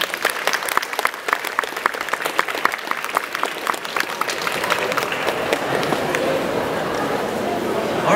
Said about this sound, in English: Please have a round of applause for her again.